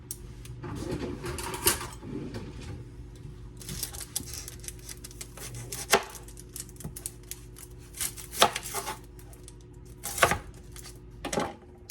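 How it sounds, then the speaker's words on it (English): A knife dices an onion on a cutting board, giving irregular crisp chops and taps spread across several seconds, some louder strikes standing out over a quiet kitchen background. "This onion right here really needs to be used up, so we're gonna go ahead and get it diced up."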